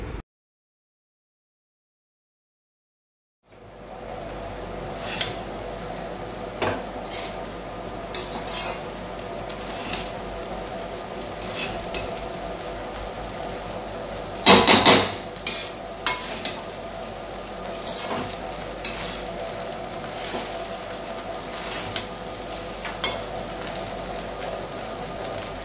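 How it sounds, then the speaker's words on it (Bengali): A large batch of mixed fried rice is stirred in a kadai over heat, with steady sizzling and repeated scraping, clinking strokes of the spoon that continue for a long stretch nearby. "আরও নাড়ছি চাড়ছি, আর অনেকটাই তো পুরো এক কড়াই নাড়তে নাড়তে না আমার হাতটা পুরো ব্যথা হয়ে গেছিলো"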